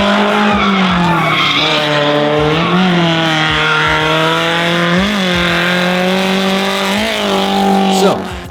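A Toyota AE86 drifting, its tires squealing in long continuous wails over a loud, steady engine drone, rising and falling in pitch as the car slides through the turns, heard from inside.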